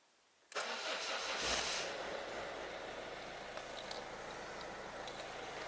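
A 1.6 HDi diesel car engine, just fitted with a new timing belt, cranks and fires with a sudden loud catch, briefly revs, then settles into a steady, close diesel idle with no talking.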